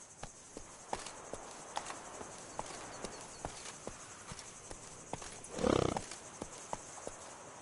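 Roach, the horse in The Witcher 3, clip-clops along in a steady trot of distinct hoofbeats, with a brief loud snort or whinny partway through; no talking.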